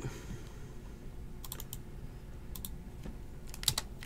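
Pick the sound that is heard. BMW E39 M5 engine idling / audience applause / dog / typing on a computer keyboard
typing on a computer keyboard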